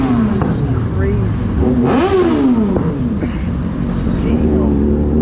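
Kawasaki motorcycle engine revving at a bike night, with rising and falling rev sweeps heard up close under excited male chatter.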